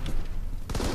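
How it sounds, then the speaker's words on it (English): A grease grenade bursts in a video game, a short dense blast of gunfire-like crackle and booming noise that swells loudly in the second half amid ongoing game sounds. "Throwing grease grenade!"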